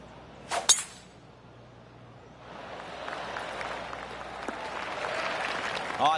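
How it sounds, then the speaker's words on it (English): Scattered polite applause from spectators around a golf course at the Masters, a brief clap burst early, then a soft, steady wash of distant clapping and crowd noise building toward the end. "Oh, I can hear the golf claps around the course."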